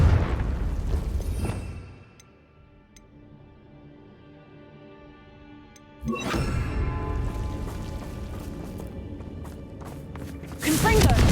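Confringo fire spell blasts in Hogwarts Legacy: a loud burst at the start, a quieter stretch, then another strong eruption around midway and a final blast at the end, with game ambience between.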